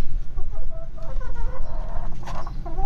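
Expensive roosters cluck and squawk close by, with rapid, uneven bursts of calls over a loud low background rumble.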